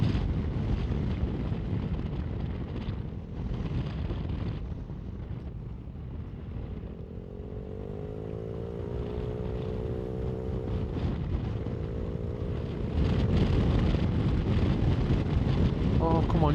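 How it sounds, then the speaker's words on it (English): Strong wind roaring over a motorcycle rider riding at 60 to 65 mph, a dense continuous buffeting rumble with a steady engine drone beneath, loud and close throughout and swelling harder toward the end. "This wind is an absolute killer"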